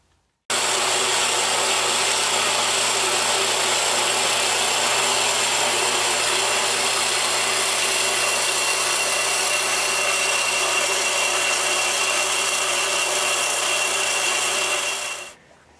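A power tool grinds steadily through pipe in one continuous, loud rasping run lasting over ten seconds, starting and stopping abruptly.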